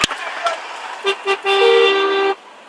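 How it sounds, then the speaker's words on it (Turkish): A car horn honks in two short beeps, then one long sustained blast, loud and close. "Arabadan korna ses çıkıyor."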